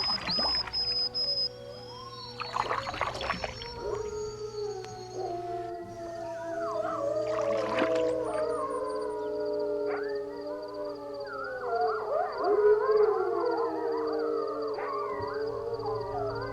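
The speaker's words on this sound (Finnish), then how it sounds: "Susia!" Several wolves howl together in a remote wilderness, heard from a lake shore while canoeing, with long rising and wavering calls overlapping in a steady chorus that carries across the quiet water.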